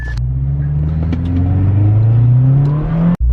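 A warmed-up Toyota 1JZ engine revs in one long, loud rising pull lasting about three seconds, close by, then cuts off abruptly.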